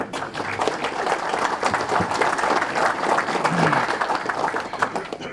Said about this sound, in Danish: Skal vi ikke give Harry et, et klap for de gode her?